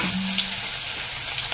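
Chopped onion frying in hot oil for kande pohe, with cumin, curry leaves and green chillies already in the pan, a steady close crackling sizzle heard alone without talk.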